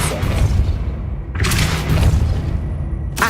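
A Depulso spell is cast in the video game Hogwarts Legacy. It plays as loud booming bursts, with a heavy blast midway and another sharp hit at the very end over a rumbling game background.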